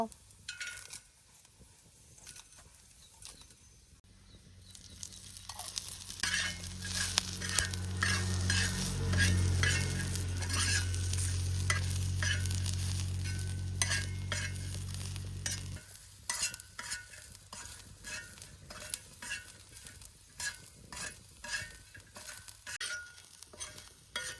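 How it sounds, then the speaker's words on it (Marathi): Spice masala roasts in a pan over a wood-fired stove, with a loud sizzle swelling in the middle while a spoon stirs with repeated scrapes and light clinks against the metal. "आता थंडा मसाला गरम मसाला भुजून घेतो"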